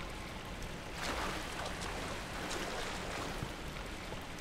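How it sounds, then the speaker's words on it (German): Waterfall in the video game Tomb Raider, a soft, steady wash of rushing water heard at low level with slight swells, faint and distant, no voices over it. "Und hier der Wasserfall."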